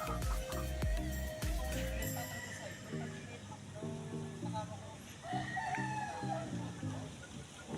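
On a gamecock breeding farm, fighting roosters crow repeatedly, with several drawn-out calls from birds at moderate distance, over a background of other farm birds and noise, with a few sharp knocks near the start.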